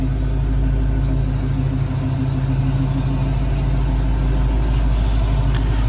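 A 1977 Chevrolet Nova Rally with a 350 V8 and automatic transmission idles close by, giving a steady, loud, low rumble with an even throb that holds unchanged throughout, and no voices.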